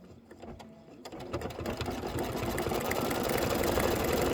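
An embroidery machine runs a tack-down stitch on a pumpkin design, its needle chattering in a fast, steady rhythm that starts softer and grows louder and denser, close by with no talk.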